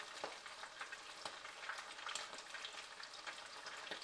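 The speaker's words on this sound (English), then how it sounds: "Shrimp cooks pretty fast, especially at this temperature. About 350 degrees frying right now." Shrimp deep frying in oil at about 350 degrees gives off a faint, steady sizzle with crackly pops scattered throughout.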